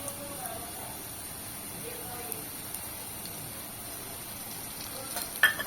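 Ginger-garlic paste sizzling with browned onions in a pan while bombil masala is cooked, a steady low frying hiss throughout with a brief louder clatter near the end.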